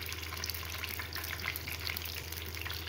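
Cumin seeds hit hot oil while preparing homemade puri, giving a close, steady sizzle dotted with fine crackling pops that runs evenly throughout, with no one talking.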